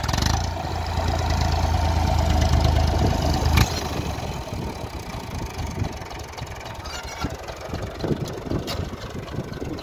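A Massey Ferguson 135 tractor engine runs at an obstacle-course competition arena, a loud mid-pitched chugging with a steady low hum at first, then lighter uneven revving with clanks and knocks.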